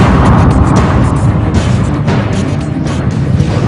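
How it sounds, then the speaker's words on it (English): Big Bang explosion sound effect, a loud, sustained rumbling roar with deep booming texture and crackling bursts that stays heavy and continuous throughout. "There was a cosmic explosion that created the stars, the heavens, the galaxies around us."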